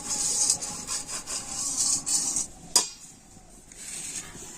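A brush works white oil across a perforated metal plate, giving a steady close scratchy rubbing that pauses briefly with a sharp tap near the end.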